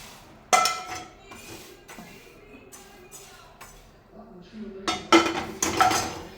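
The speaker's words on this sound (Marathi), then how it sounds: "इथे मी पाणी उकळायला ठेवूया।" A pot of water for syrup is set down on a home kitchen stove to boil, giving a sharp metallic clank followed by several more knocks and clinks of cookware, close and moderately loud, with low room noise between.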